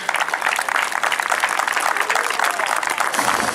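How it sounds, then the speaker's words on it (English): A crowd at a high school soccer game's senior day claps for the graduating seniors, producing a dense, steady patter of applause throughout. "Let's have one more big round of applause for this year's 10 graduating seniors."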